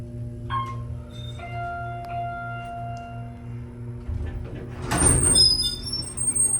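Doors of a late-1990s Otis hydraulic elevator at George Bush Intercontinental Airport Terminal B rumbling roughly open or shut, a louder grinding swell near the end over a steady machine hum with faint tones.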